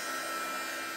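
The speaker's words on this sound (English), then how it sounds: "This is a little heat gun, but you can just use a hair dryer" Steady, close whooshing hiss of a small electric heat gun blowing hot air to dry a surface, an even broadband rush with no variation and no voices.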